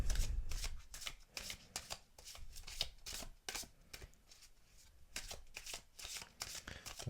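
A deck of oracle cards is shuffled up close, producing rapid riffling flutters and soft slaps in repeated bursts, fairly quiet and with no talking.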